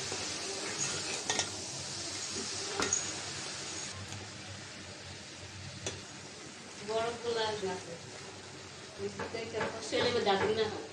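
Shapla (water lily stems) frying with coconut and shrimp in a pan, stirred with a utensil: soft sizzling under scraping and clinking of metal on the pan, with someone talking over it.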